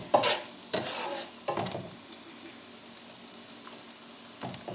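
Butter with a little oil sizzling in a pan while being stirred, several scraping bursts of frying over a steady soft hiss, heard up close with no voices.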